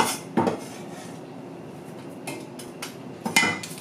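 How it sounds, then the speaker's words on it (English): Four garlic cloves dropped into a pot for a spiced chickpea stew with coconut and turmeric, heard as a few sharp clinks and knocks against metal, spaced apart over quiet kitchen background. "4 cloves of garlic into the pot."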